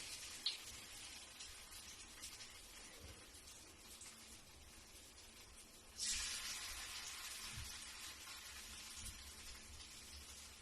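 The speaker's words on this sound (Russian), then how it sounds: "ложим на хорошо разогретую сковороду" Quiet, steady sizzling of potato pancakes frying in a hot pan, with a soft crackle that swells a little louder about halfway through.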